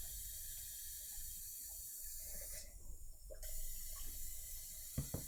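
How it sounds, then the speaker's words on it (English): Running tap water splashes steadily as a paintbrush is rinsed clean at a hobby workbench after painting a model, with a brief clatter near the end; continuous and fairly close. "I'm just rinsing out my brush with water first"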